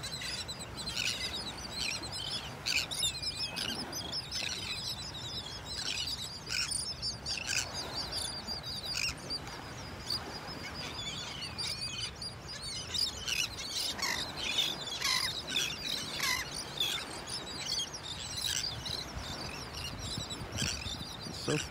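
Birds chirp and call continuously on a beach in North Naples, Florida, with bright overlapping tweets near and far over a steady wash of surf and wind.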